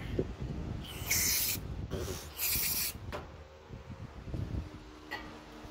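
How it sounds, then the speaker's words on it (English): Aerosol brake cleaner sprayed into a freshly tapped hole in a workshop, heard as two loud, close hissing bursts of about half a second each, followed by fainter short puffs and quiet clinks. "shoot a little bit of brake clean in there"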